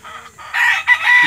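A loud, close rooster crow in several rising and falling bursts, with a short low cluck at the end.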